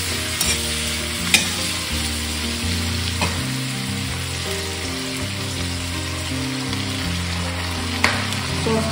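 Chilli fish frying in a pan gives a loud, steady sizzle throughout, with a few sharp clinks of a utensil stirring against the pan and no voices.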